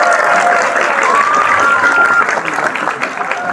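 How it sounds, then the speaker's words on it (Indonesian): Junior high school students clap steadily for the boys in a school assembly, a dense, loud applause that holds for several seconds and thins slightly toward the end, with some voices mixed in. "Tepuk tangan buat laki-lakinya."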